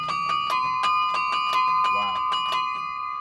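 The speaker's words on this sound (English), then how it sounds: "I have 35 bells, and I can play them with either my hands or my feet." Hand- and foot-played set of 35 bells, clappers striking in a quick steady run of sustained ringing tones, close and loud, with a brief voice partway through.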